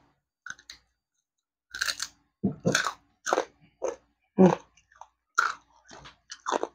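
Someone bites and chews crispy air-fried pork pata skin: a run of loud, close crunches in irregular bursts separated by brief pauses, with no talking.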